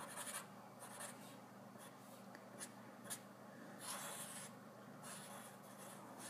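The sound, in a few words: drawing a wiring diagram by hand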